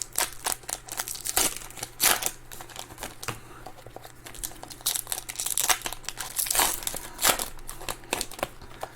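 Packs of 2021 Topps Archives baseball trading cards are torn open by hand, their foil wrappers crinkling and ripping in close, loud, irregular bursts with no talking.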